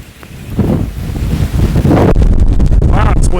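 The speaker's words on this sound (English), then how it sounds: "Wow, it's windy." Strong wind buffets the microphone outdoors on a homestead in October, a loud, steady broadband rush that swells and stays heavy throughout, with faint talk mixed in.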